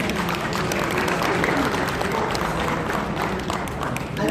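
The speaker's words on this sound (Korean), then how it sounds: "박수 한번 쳐주시기 바랍니다." Audience applause at a memorial ceremony for a Korean independence activist, welcoming a gugak and gayageum performer. Dense, steady clapping from a crowd fills the whole stretch at an even level, with some voices mixed in.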